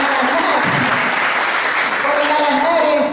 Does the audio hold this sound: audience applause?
yes